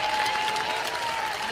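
Crowd applauding in a packed Whitehaven church in Memphis during a Q&A with Mayor Paul Young, a dense steady clapping that fills the room for the whole moment.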